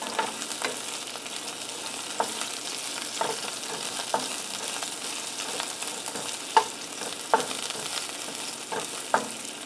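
Onions sizzle steadily as they caramelize in a frying pan for Honduran-style beans, with a constant close hiss and occasional soft scrapes of a spoon stirring through.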